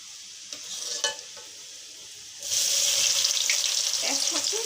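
Onions poured into a hot pan start frying with a sudden loud, steady hiss that holds to the end, after a quieter stretch of faint sizzling with a few clatters.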